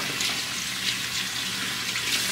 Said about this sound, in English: I'll wash my hands for you.